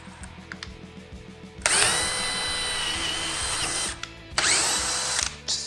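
DeWalt DCD1007 18V brushless hammer drill running at speed 3, heard as two loud, steady whining bursts: a long run of about two seconds, then a shorter one after a brief pause, with no talking.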